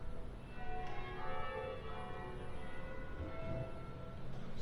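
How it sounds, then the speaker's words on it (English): A church bell on the Strand in London plays the Bells of St. Clement's tune. Faint, distant chimes sit under loud street and traffic noise from a busy city road. "So that church bell is actually doing the song of the bells of St. Clement's."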